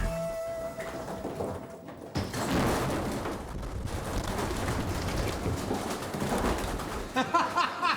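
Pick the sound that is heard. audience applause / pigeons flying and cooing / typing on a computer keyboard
pigeons flying and cooing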